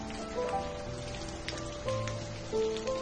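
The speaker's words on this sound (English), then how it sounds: "Rain cloud humidifier." Water drips from a rain cloud humidifier like falling raindrops, a soft, quiet patter of small drops over a few seconds with gentle tonal background music throughout.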